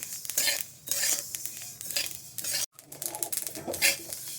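Sesame seeds roast in a dry pan, crackling and rustling as they are stirred, with frequent metallic scrapes of a spoon against the pan and a brief dead gap partway through, close and moderately loud.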